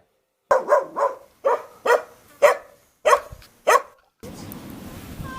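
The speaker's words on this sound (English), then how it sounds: "Little puppy dog." A puppy barks eight times in quick succession in Mongolia, each yap close and sharp, followed by a brief wash of outdoor background noise.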